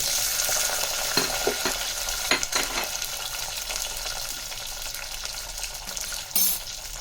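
Whole small shallots fry in oil with fenugreek and cumin. A continuous loud sizzle runs throughout, with occasional stirring clatters and a brief scrape near the end, and no talk.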